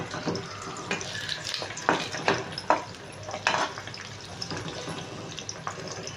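Scrambled egg stirred in a frying pan, with soft sizzling and irregular scraping strokes of a utensil against the pan, fairly close and steady.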